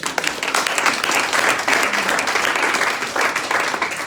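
A church congregation claps and applauds loudly and continuously, a dense steady patter of many hands filling the room for several seconds.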